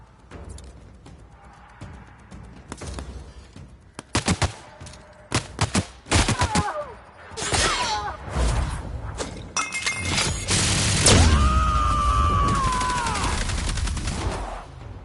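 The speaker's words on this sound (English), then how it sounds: "Take them down! Open fire!" A firefight in The Outer Worlds video game: sharp bursts of gunfire and shattering impacts, sporadic at first, then denser, rapid volleys rising into a loud, sustained barrage.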